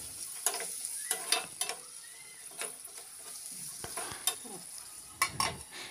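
Oats upma being stirred in a pan with salt, turmeric powder and a little water: soft scraping stirs with a few sharper spoon-on-pan clicks, moderately close, over a faint background hiss and no voices.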